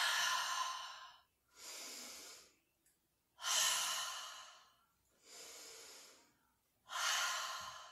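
Slow, audible breathing from a kids' yoga breathing exercise: airy inhales alternating with longer breathy exhales, close and alone, repeated several times in an even rhythm.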